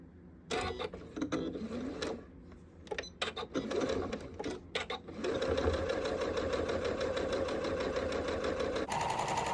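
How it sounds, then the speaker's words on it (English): A sewing machine backstitches and runs seams along the sides of a fabric bucket, sped up. Short stop-start bursts of rapid mechanical chatter give way to a long continuous whirring run, close and clear. "We're going to take this over to the sewing machine, backstitching at the start and end of each of these sides"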